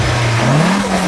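A green Nissan S15 revs its engine in one continuous, loud, close pull, the pitch rising steadily and then holding high, with no voices over it.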